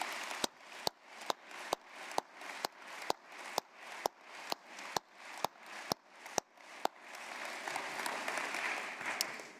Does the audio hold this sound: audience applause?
yes